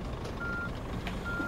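A truck's reversing alarm in a truck driving game, steady beeping over a constant low engine rumble.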